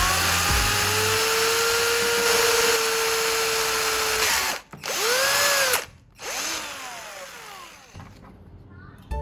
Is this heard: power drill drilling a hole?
yes